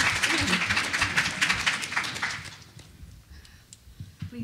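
An audience claps at a feminist futurism and fantasy comics panel, a dense burst of applause that fades quickly to scattered claps and a quiet room.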